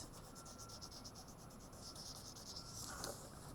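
A colored pencil shades rows on graph paper in rapid, even back-and-forth scratching strokes, close and soft, with a slightly heavier rub near the end.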